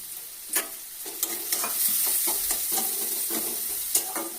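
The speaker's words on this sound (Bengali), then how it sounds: "তেল গরম হয়ে গেছে, আমি পেঁয়াজটা দিয়ে দিচ্ছি।" Chopped onion sizzles loudly in hot oil in a pan while being stirred, a steady bright frying hiss broken by occasional scraping clanks of the spoon, close and with no talking.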